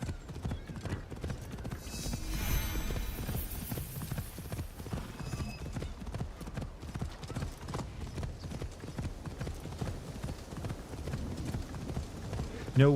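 Horse riders galloping in the video game Assassin's Creed Shadows: rapid, continuous clip-clop hoofbeats with a brief neigh, loud and close among busy game ambience.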